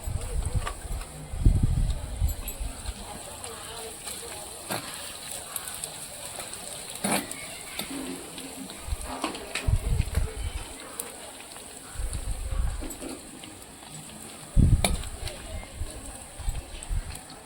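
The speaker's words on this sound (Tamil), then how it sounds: "வெங்காயம் இந்த அளவுக்கு சவுண்டு வரணும்" Onions fry in a pan with a soft crackling sizzle that runs steadily underneath. Someone talks over it at intervals.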